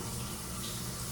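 Shower water runs in a hotel bathroom in Antigua, making a steady, close, hissing stream that fills the whole short moment without pause.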